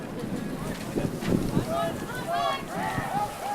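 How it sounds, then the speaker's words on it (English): Wind gusts buffet the microphone at an outdoor college lacrosse game between Oneonta and Hartwick at Oneonta State, a steady low rumble with swells under continuous commentator talk. "As the wind picks up here at O-State."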